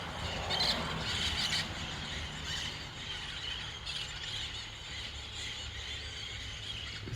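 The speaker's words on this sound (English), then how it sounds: "We got the green parrots right out front every day." Green parrots in Costa Rica squawk and shriek from trees out front, a dense, harsh chorus of calls over steady outdoor background noise, with no talking.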